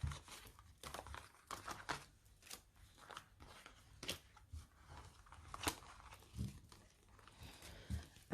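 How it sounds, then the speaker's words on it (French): Tarot cards are shuffled and gathered up to be put away, a faint close run of soft crinkles, taps and slaps at an irregular pace. "Je vais juste ranger mes cartes."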